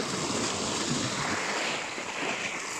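Black Sea surf washing the shore at Gaspra near Yalta in Crimea, a steady broadband wash of waves with wind noise across the microphone, fairly loud and continuous with no voices.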